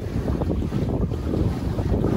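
Houseboat cruising on the Alleppey backwaters in Kerala, a steady low rumble of engine and water with heavy wind buffeting the microphone throughout.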